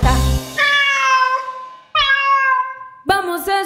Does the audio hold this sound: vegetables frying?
no